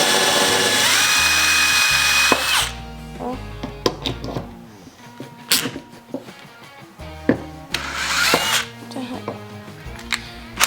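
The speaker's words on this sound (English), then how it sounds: "Then if you have to, you can go back and drill this thing." A power drill bores a nail hole into a small wooden salt box. A loud, sustained whine runs for about two seconds, followed by short bursts, clicks and handling knocks of the tool and wood.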